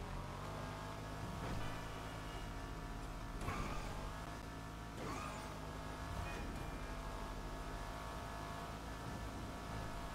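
Car engine hum from driving in GTA V, a faint steady drone running throughout with a few brief whooshes and clicks layered on top, no talk.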